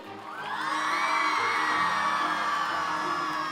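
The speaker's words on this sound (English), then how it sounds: "A very, very big round of applause to Kajol." A large crowd at a Christmas celebration with Kajol erupts in loud, sustained whoops and cheering that swell quickly and stay strong throughout.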